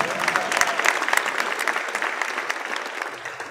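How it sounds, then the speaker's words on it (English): Audience applause at a speedcubing championship awards ceremony for the Pyraminx event: a dense, steady clatter of many hands clapping, fairly close and unbroken for a few seconds, tapering slightly at the end. "we can clap it from here"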